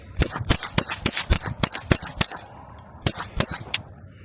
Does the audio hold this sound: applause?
no